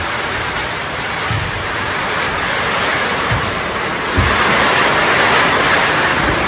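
Steady, dense hiss of heavy rain pouring down, constant and loud, with a slight swell in intensity partway through.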